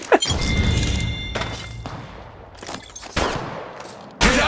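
Gunfire from Apex Legends Mobile in a gold-ranked lobby: loud bursts of shots and thuds come in clusters, with sharp, close blasts near the start and at the end and a steadier rattle of fire between them.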